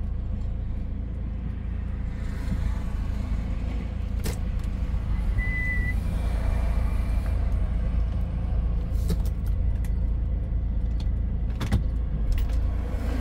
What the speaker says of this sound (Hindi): गाड़ी वाले ने क्या किया है, गाड़ी निकाल रहा है अपना